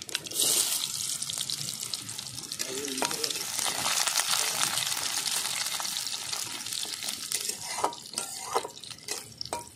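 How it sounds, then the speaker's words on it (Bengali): Onions sizzle loudly in hot oil in a pan, a steady crackling hiss broken by a few scraping stirs, close up and with no one talking. "পেঁয়াজটা আমি একটু হালকা করে ভেজে নেব"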